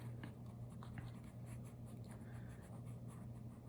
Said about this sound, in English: you're constantly correcting and getting a feel for it with your pencil. So you're moving the line into the direction you want by just scribbling away.